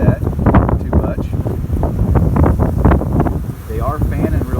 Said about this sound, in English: but it's so windy right now.